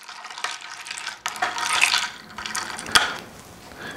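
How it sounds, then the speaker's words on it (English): A paloma cocktail with grapefruit soda being lightly stirred in a glass, giving soft swishing liquid sounds and a few bright clinks of ice or spoon near the end, close and fairly quiet, with no talking. "Grapefruit soda goes in, and I'm just gonna lightly stir it just to try and get it mixed well."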